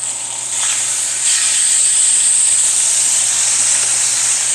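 A sous vide steak sears in a hot pan with a steady, loud, close sizzle and hiss that holds without a break, and no talk over it.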